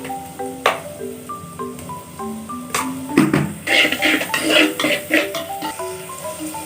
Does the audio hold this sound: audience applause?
no